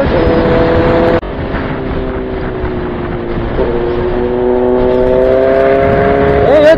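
A motorbike engine revs loud and close while the bike is ridden through crowded lanes, its steady drone cutting off once, then returning and rising in pitch toward the end, with no speech over it.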